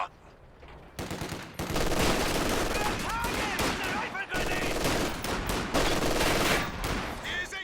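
Bursts of rapid machine gun fire and other gunfire crackle loudly through a World War II real-time strategy battle in Company of Heroes 2, dense and continuous with sharp repeated shots, while game voice lines speak over the fighting.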